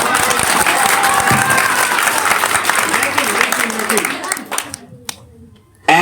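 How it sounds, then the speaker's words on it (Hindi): A classroom audience gives hearty applause for a winning student at an English-letter antakshari competition, dense clapping that holds steady, thins out near the end and then cuts off into a brief loud burst. "इनके लिए जोरदार तालियां"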